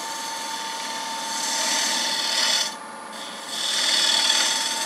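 A detail gouge cuts a Bradford pear wood bowl on a lathe, giving a continuous close scraping rasp that swells, briefly drops away, then resumes.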